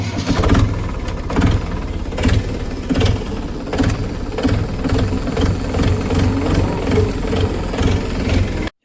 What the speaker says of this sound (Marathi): आता ट्रॅक्टर घेऊन मित्रांनो आपण हे बघा मित्रांनो जातो आता आम्ही ट्रॅक्टर घेतो सावलीमध्ये